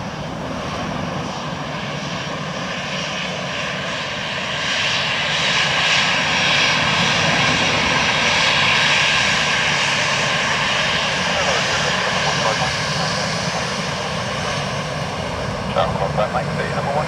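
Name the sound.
Scandinavian airliner landing on runway 28 left, Dublin Airport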